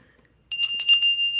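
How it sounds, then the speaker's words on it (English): A small decorative apple-shaped bell rings out suddenly after a moment of silence, giving a bright, close, loud metallic jingle with several quick strikes and a lingering high ring that fades. "It is an apple bell."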